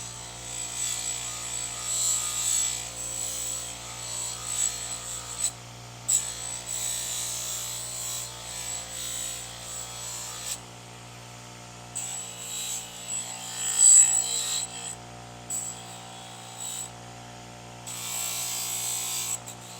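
A Harbor Freight 1x30 belt sander grinds rust off Wusthof steak knives, a close motor whine with rasping contact bursts that swell and fade as each blade is pressed to the belt and pulled away.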